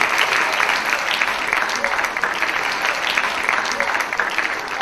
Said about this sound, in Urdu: بھائی زبردست کلیپنگ ہونی چاہیے